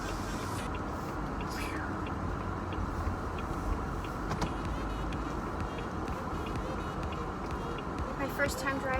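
Steady car interior drone of a vehicle driving to the grocery in California, a constant low road rumble with faint higher noises, heard from inside the cabin with no talk in the moment.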